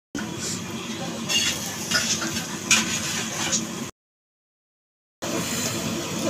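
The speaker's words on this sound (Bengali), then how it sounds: "তো এখানে রাত্রির মেনু রান্না বান্না হচ্ছে" Dinner cooks in pans, a continuous frying sizzle with scraping stirs and light clinks of utensils. The sound cuts out briefly to silence, then resumes.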